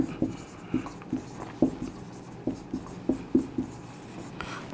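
Chalk or marker writing on a board in a physics lesson, with a series of short, close taps and scratches in an uneven rhythm as words are written out.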